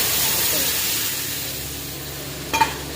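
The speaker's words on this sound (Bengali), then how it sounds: "ফোড়নে এবার ডালটা দিয়ে দেবো।" Lentils hit a hot spice tempering of cumin, coriander, dried red chillies, bay leaves and panch phoron, giving a loud close sizzle and hiss that slowly fades, with a brief clatter near the end and no talking.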